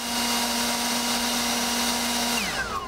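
A cordless blower roars steadily at full power, a constant whirring drone that winds down near the end.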